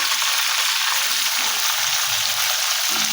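Steady, loud sizzling and crackling of country chicken frying in hot oil, close up and continuous, with no voices.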